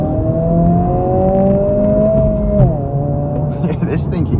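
A 2024 Honda Civic Si accelerates on a highway, its engine note rising steadily as a tonal whine from inside the cabin, then dropping briefly at a gear shift before climbing again, loud and continuous.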